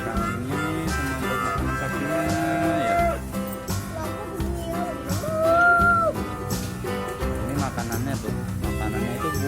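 Cattle at a pen for sacrificial animals moo several times, long drawn-out lowing calls close by, with people talking over them and general farmyard background.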